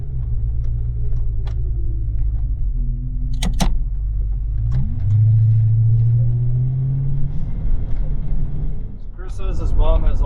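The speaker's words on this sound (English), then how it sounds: "car idles beautifully" A Ford Foxbody LX hatchback idles with a steady low engine rumble that holds throughout, with a brief rise midway, along with small clunks and movement noises nearby.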